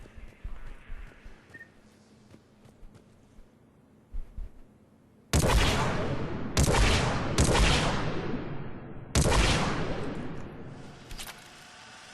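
Disciple shotgun fired in Mass Effect 3, four loud, booming blasts with sharp attacks and rolling tails, unevenly spaced, following a quiet stretch of faint game ambience.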